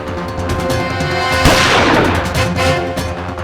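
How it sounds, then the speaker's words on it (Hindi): A single loud, sharp gunshot-like crack rings out midway through, cutting over an ongoing dramatic musical backdrop. "फिर मैंने गोली चलने की आवाज सुनी।"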